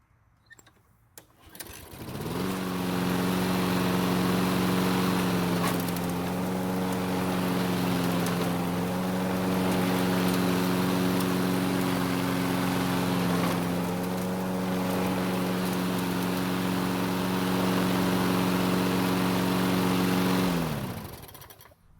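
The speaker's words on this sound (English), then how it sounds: "Once the wheels are back on, I'll start the mower and see how well it works." A lawn mower engine, set on a Toro or Husqvarna mower just back on its wheels, starts after a brief pull and settles into a loud, steady idle that runs evenly close by before cutting off.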